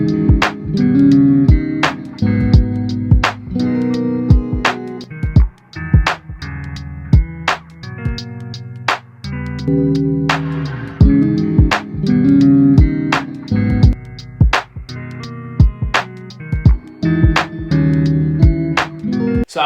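Music sample run through a thickening plugin with a mid-to-high bandpass, a dense looping beat with sharp percussive hits and layered tones, steady and loud throughout.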